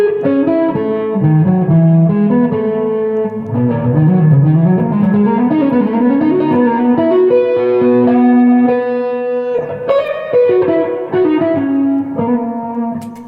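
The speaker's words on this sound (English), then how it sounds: "if I want a soft distortion sound, this is like the perfect thing" An electric guitar plays a melodic run through a mild Analog Man distortion pedal blending clean and dirty signal, sustained notes ringing with a gritty edge, loud and close, no voices.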